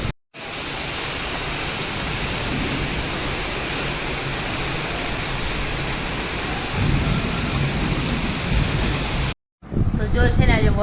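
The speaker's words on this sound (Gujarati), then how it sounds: "વરસાદ ચાલુ થઈ ગયો છે, જો મસ્ત" Heavy rain pours down in a dense, continuous roar that swells with a deeper rumble partway through, then cuts out briefly before resuming near the end.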